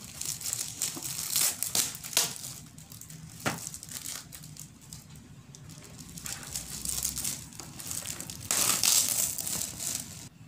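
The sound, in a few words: unwrapping a gift package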